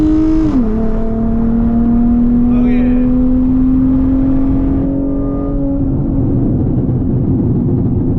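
A car making a hard pull roars loudly and close, its engine note climbing then holding high as it accelerates from speed, with a brief voiced exclamation near the start.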